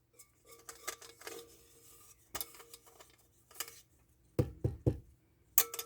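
Metal spoon scraping cornbread from a cornbread pan, a series of faint, irregular scrapes and clinks with brief louder knocks toward the end, close and quiet.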